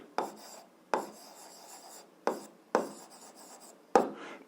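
A pen writes out an algebra solution on paper, five separate scratchy strokes, each a sharp onset trailing into a soft rasp, close and quiet with silence between.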